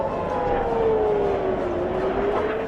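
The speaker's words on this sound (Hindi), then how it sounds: "दोनों देशों के कई बड़े शहरों की सुबह सायरन के शोर से होती है" Air raid siren over a city during wartime attacks: one continuous, steady wail that slowly drifts down in pitch, loud and sustained against a constant background hum with no pauses.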